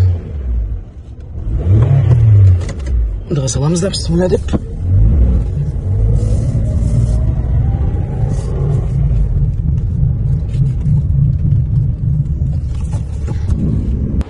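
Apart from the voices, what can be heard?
Toyota Alphard car driving off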